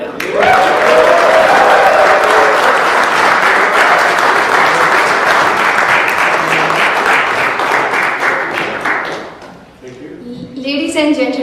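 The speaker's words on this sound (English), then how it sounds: "please give our panel a very warm round of applause" A large audience at a cricket roadshow event in New York City bursts into sustained, loud applause for about nine seconds, fading out before a voice begins speaking over the hall's PA.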